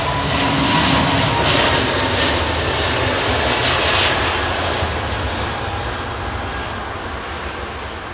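An Air Canada Dreamliner jet airliner roars steadily on the ramp at Heathrow Airport on Christmas Day, a loud continuous engine drone that eases slightly over the seconds, with no talk.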